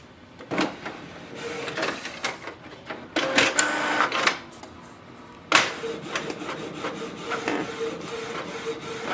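A Canon PIXMA TS3725 inkjet printer makes a copy, with mechanical whirring, rubbing paper feed and sharp clunks in bursts and pauses, heard up close.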